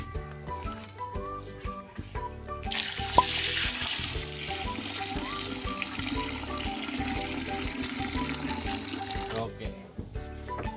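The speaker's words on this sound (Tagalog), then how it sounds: "Lagyan natin ng tubig." Loud hissing sizzle as water hits a hot pot of chicken tinola, steady for several seconds over background music before fading.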